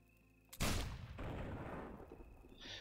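A cannon in the video game Risen 2 fires one loud, sudden blast that rolls into a long, rumbling decay, with faint game tones before it and no speech.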